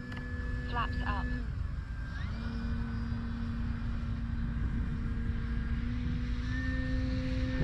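Steady whining drone of an electric E-Flite Carbon Z Cessna 150T RC model airplane, shifting pitch as it passes, with someone talking over it.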